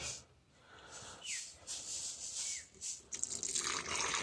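Boiled water poured from a pot on a twig stove into a French press already holding coffee grounds outdoors, a gurgling, splashing stream that swells and thins, then pours steadily and louder toward the end.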